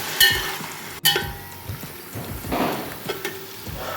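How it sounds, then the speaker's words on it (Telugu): Onions frying in a pan for a country chicken curry: a close, moderate sizzle with a couple of sharp clinks and scraping stir sounds, the hiss swelling briefly midway. "ఈ లోపల మనము ఉల్లిపాయలు ఫ్రై చేసేసుకున్నాము"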